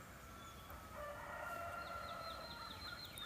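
A rooster crows from a farm in the valley below a mountain trail on the Appalachian Trail, sounding distant and faint over steady outdoor background noise.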